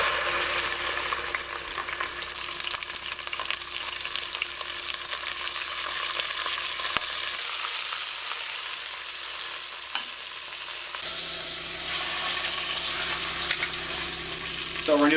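Browning meat sizzling steadily in a hot pan at a cabin stovetop, a loud, dense, continuous hiss and crackle with no talk, the texture shifting and brightening toward the end.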